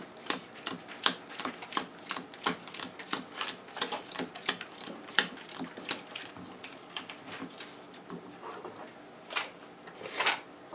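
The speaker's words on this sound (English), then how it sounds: "let's shuffle these monster cards real quick" Rapid crisp clicking and riffling of playing cards being shuffled, repeated bursts close by with brief pauses between.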